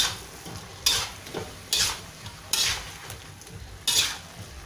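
Chicken caldereta being stirred in a cooking pot, with four or five evenly spaced scraping strokes of a utensil against the metal over a soft sizzle, close and fairly quiet, no talking.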